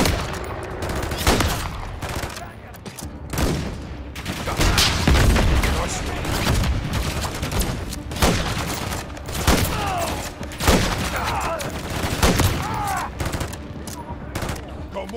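Dense gunfire from a Call of Duty: Modern Warfare 3 campaign battle, rapid automatic bursts and repeated shots rattling loudly and continuously throughout, with shouted voices and game effects layered in the mix.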